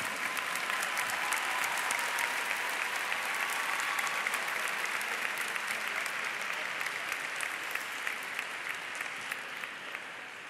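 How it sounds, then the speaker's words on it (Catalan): A graduation ceremony audience applauds in a dense, sustained wash of clapping that holds steady for about ten seconds and eases slightly at the end. "Aquests aplaudiments han de seguir així d'eufòrics fins al final"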